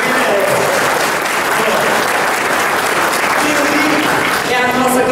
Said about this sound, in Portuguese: Uma salva de palmas para o prefeito.